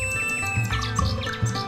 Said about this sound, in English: The emperor kept the nightingale in his palace and enjoyed its songs day and night.